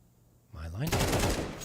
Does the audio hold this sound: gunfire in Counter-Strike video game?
yes